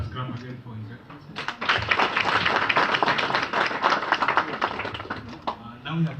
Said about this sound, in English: Let us clap again for His Excellency.